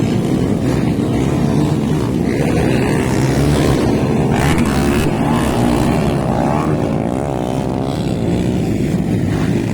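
Underbone motorcycles race at an open event in Cabanglasan, with engines roaring loud and constant and rising and falling pitch as bikes pass. Crowd noise runs underneath throughout.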